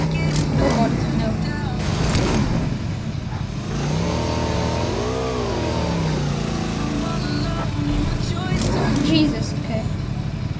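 A vehicle engine in a video game drones continuously while driving, rising and falling in pitch through revs and shifts, with a player talking over it.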